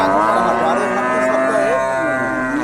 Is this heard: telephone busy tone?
no